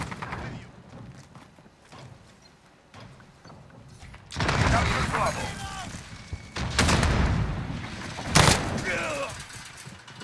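Gunfire in a multiplayer shooter video game, with bursts of shots and mechanical clatter that grow louder in the second half, mixed with game effects and a voice talking in the background.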